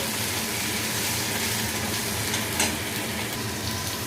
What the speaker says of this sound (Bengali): তো বন্ধুরা আলুটা ভাজা ভাজা হয়ে গেছে,